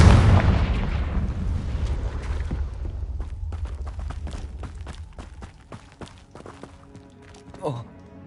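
A Confringo fire spell from the Hogwarts Legacy video game bursts with a loud, close blast that rumbles and decays over several seconds, followed by scattered crackling debris pops and a brief sharp hit near the end.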